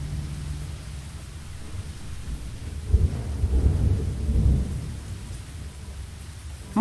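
Steady rain hisses in a Lost Horizon game scene, with a low rumble of thunder swelling midway and fading back under the rainfall; no voices.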